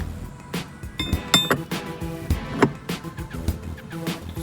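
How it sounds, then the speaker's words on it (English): A 7/8 wrench clinks against metal while an AC valve is being removed, producing sharp, scattered metallic taps and clanks close by at an irregular pace. "but I'm taking off the valve"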